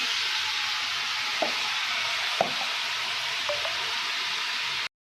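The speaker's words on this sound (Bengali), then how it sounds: "তেলটা একটু গরমও হয়ে গেছে, এরপর আমি এর মধ্যে টমেটোগুলো দিয়ে দেবো" Tomatoes fry in hot mustard or white oil in a wok with a loud, even hiss that runs steadily for about five seconds, broken by a few faint taps, then stops abruptly.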